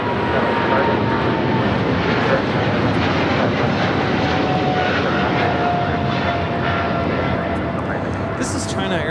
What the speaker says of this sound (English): This is China Airlines Cargo 5137 taking off to Taipei on the 777 freighter.